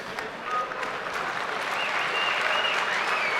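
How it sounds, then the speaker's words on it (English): A boxing-match crowd between Polish and Ukrainian fighters cheers and applauds steadily throughout, a dense, continuous roar of clapping and voices heard from within the arena. "the crowd cheering for him to go on"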